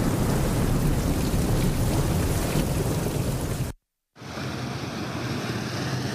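Heavy rain and a thunderstorm roar in a dense, continuous wash of noise with a deep rumbling low end, cutting briefly to near silence before the downpour resumes at a slightly lower level.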